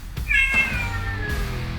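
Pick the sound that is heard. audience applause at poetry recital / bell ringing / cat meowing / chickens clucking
cat meowing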